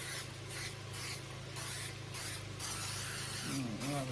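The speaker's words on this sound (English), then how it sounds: "I just have cooking spray, and I am going to generously spray my pan" Cooking spray hisses onto a pan in several short bursts, close up, with steady broadband spritzes separated by brief pauses.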